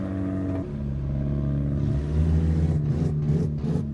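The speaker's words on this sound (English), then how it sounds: "That car of that 31 car of Matt Watkins just seems to be misfiring a little bit." Matt Watkins' number 31 race car engine runs rough and misfires, a loud droning tone that wavers and stutters, then swells as it revs, with sharp choppy breaks near the end.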